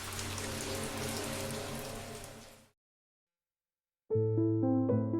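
Steady rain on a wild common in a Sherlock Holmes audio drama, a fine rain hissing for nearly three seconds before it cuts to silence, then music begins.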